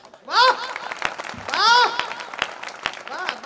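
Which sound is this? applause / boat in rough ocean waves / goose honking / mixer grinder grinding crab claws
applause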